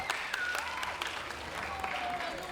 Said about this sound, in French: On applaudit très fort un personnage de Yandere Simulator.